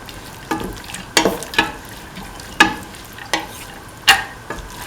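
Cauliflower rice with split chickpeas is stirred in a sizzling pan, a spatula scraping and knocking in sharp irregular strokes over a soft continuous fry.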